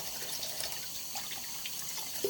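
A tap runs in a thin, steady stream to rinse off a blueberry face mask, fairly quiet and even, with a faint click near the end.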